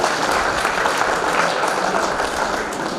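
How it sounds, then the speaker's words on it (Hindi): Loud, dense applause from the audience at an all-India poetry gathering held for a birth anniversary celebration, sustained clapping that fills the hall evenly for several seconds with no talk over it. "इनके लिए जोरदार तालियां चाहिए।"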